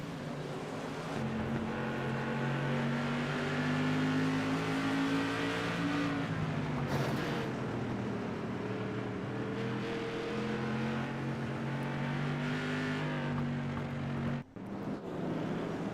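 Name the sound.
race cars circling the track under caution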